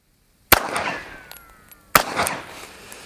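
A Glock 17 Gen 6 pistol fired at a target about 7 yards away: two sharp, loud, close shots about a second and a half apart, each with a short ringing decay.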